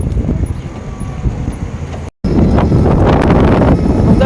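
Strong wind roars and buffets the microphone while biking around Nanliao, Taiwan, a steady close rumble broken by a brief dropout midway, with faint voices underneath.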